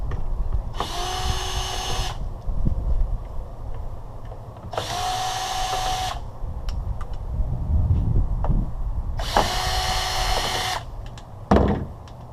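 Power drill backing screws out of an electric keyboard casing: three separate whirring bursts of about a second and a half each, spaced evenly, close and clear over a low background rumble.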